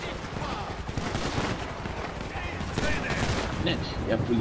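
Rapid bursts of police gunfire in GTA 5 Online crackle through a dense, noisy mix, repeated shots under steady background din.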